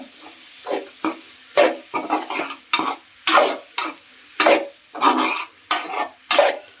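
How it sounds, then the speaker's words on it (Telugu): Ridge gourd pieces with moong dal are stirred in a pan, a rhythmic series of about a dozen close scraping strokes with a soft sizzle beneath and brief pauses between each pass. "బీరకాయ ముక్కల్ని వేసుకున్న తర్వాత ఒకసారి మంచిగా ఇలా కలుపుకోవాలి బాగా"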